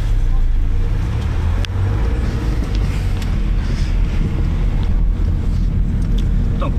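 Three-cylinder car engine running steadily from inside the cabin, a loud low droning rumble that holds throughout with no break, giving a dense, continuous hum.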